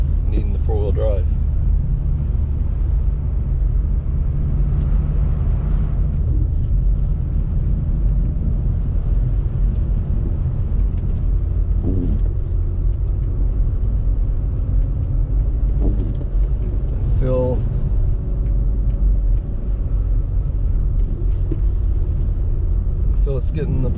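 A Honda Civic Turbo Sport Hatchback drives up a snowy North Carolina mountain road, its engine a steady low rumble close by under the throttle, while someone talks over it throughout.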